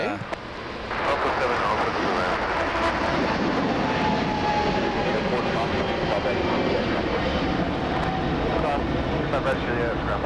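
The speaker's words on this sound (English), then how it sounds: "there goes Philippine Airlines" A Philippine Airlines airliner passing at Los Angeles International Airport, a loud steady jet engine roar building within the first second and holding for about ten seconds.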